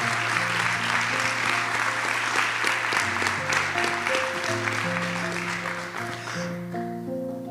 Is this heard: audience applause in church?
yes